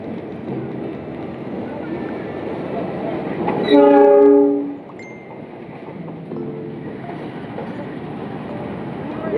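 The KA Cikuray passenger train on the Jakarta–Bandung line rumbles past, with one loud horn blast about two seconds long in the middle. The rolling noise continues before and after the horn.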